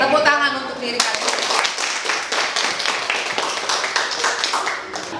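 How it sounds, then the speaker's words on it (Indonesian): Students in a classroom clap for themselves at the end of a physics lesson: a teacher's voice is heard briefly, then a dense run of close hand claps continues steadily to the end. "Tepuk tangan untuk diri kalian."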